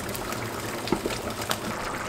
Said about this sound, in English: So now we boil here 5 minutes to reduce the water a little bit.